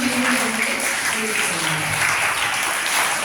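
Applause for a professor at a Tamil school function marking Teachers' Day, a literary club event and a feast of Our Lady of Good Health, with steady dense clapping from a hall audience and a voice faintly underneath.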